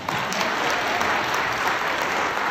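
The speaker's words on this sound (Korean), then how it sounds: "박수 한번 주시겠습니다" Applause from a church gathering of Christian teachers at a prayer meeting, a dense, steady wash of many hands clapping together, sustained and even throughout with no voices standing out.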